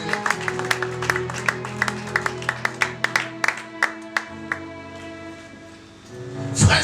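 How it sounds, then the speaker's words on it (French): Church congregation clapping in a worship service, a steady run of sharp hand claps over sustained music or organ tones, ending in a louder swell of crowd noise. "Acclamons pour la gloire de Jésus"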